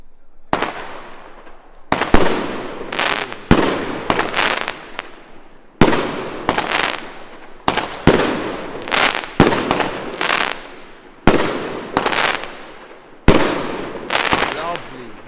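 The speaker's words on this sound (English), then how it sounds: "We're starting with Celtic Fireworks Chameleon, new for this year." A Celtic Fireworks Chameleon firework fires at a Bonfire Night display, sending out about ten sharp bursts at irregular intervals of one to two seconds, each trailing off in a crackling decay.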